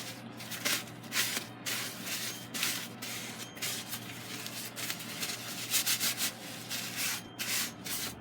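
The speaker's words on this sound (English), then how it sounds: "let's take a little bit of Windex. Clean all this gunk off." Cloth wiping Windex across a Cold Steel Norse Hawk head to clear away gunk: steady, close rubbing and scrubbing strokes with brief spritz-like hiss, uneven in rhythm, with no talking.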